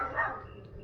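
A small dog in a backyard gives one short, sharp bark that quickly fades, leaving only faint background noise.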